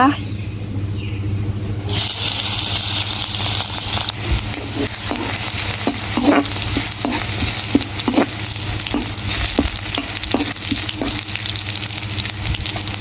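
Minced garlic sizzles steadily in hot oil in a wok, a loud continuous fry with frequent scraping stirs and clinks throughout.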